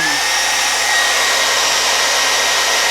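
A hair dryer runs continuously at close range, heating an eyelash curler, a loud steady whooshing blow with a whining motor tone and no pauses.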